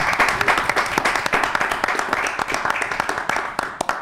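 A small studio audience claps for guest musicians Rubén Maidana and Pocho Oviedo, with close, distinct hand claps in a brisk, uneven rhythm that continues throughout.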